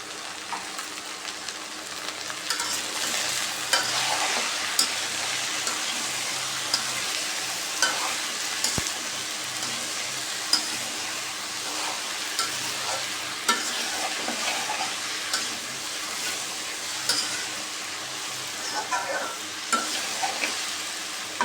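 Tilapia fish frying in a pan with salt and turmeric while being stirred: a steady, close sizzle with scraping stir strokes throughout, no voices.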